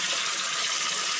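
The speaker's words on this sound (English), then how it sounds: "Turn the water on." Water turned on during a channel catfish fishing trip rushes in a continuous, loud, even hiss for just over a second, with no voices.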